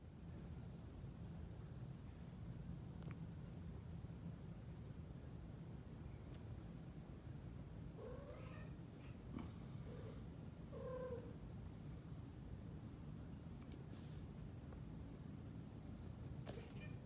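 Kittens meow faintly from a played video, a few thin cries scattered through the middle over a constant low hum and hiss.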